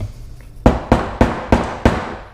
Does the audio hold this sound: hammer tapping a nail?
yes